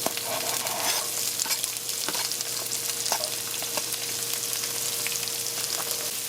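Chopped onion fries in avocado oil in a pot, giving a steady, close, loud sizzle with light stirring clicks throughout and no speech.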